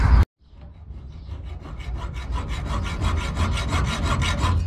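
A hand saw cuts wood on its pull strokes, giving a close, steady, rhythmic rasp of fast repeated strokes after a sharp click and a brief pause at the start. No one speaks.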